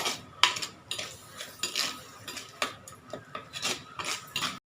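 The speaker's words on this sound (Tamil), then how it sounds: "நல்லா எல்லாத்தையும் சேர்த்து நல்லா வதக்கிங்க." Chilli masala with green chillies being stirred and sautéed in a pan for Chettinad crab masala, a close, rhythmic series of about a dozen scraping strokes of a utensil against metal, each with a soft sizzle beneath.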